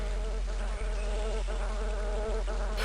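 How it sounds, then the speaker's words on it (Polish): Flying mosquito enemy in the game Daikatana, set in a swamp, gives a steady, close insect buzz with a whining drone that holds throughout, with brief dips in the tone. "Komar latający. Trzeba go zestrzelić."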